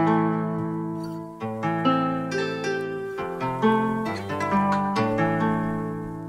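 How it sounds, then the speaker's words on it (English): A music sample loop from Looperman plays on its own, layered sustained tones moving through shifting chords with plucked accents, steady and fairly loud throughout. "so I got this loop that I pulled from Looperman"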